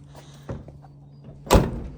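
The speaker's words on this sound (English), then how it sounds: "Slam the door." A single heavy thunk of a first-generation Dodge Ram D250/W250 Cummins truck door slamming shut nearby, preceded by a fainter knock, over a low steady hum.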